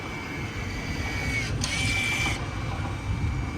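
2018 Acura TLX electric parking brake motor adjusting itself after a brake pad reset, a steady whirring mechanical hum with a higher-pitched motor whine rising briefly near the middle, close and continuous.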